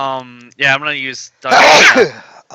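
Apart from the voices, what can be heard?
sneeze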